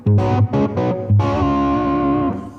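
Electric guitar through a Neo Ventilator 2 into a lightly overdriven amp: a few short chords, then a long sustained ringing chord that slowly decays, gritty and loud.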